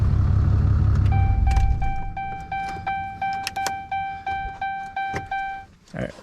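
A lifted 4th Gen RAM truck's 6.7L engine rumbles loudly, then dies away after switch-off. A steady series of evenly spaced electronic chime beeps follows, with a brief rustle at the end.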